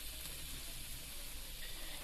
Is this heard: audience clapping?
no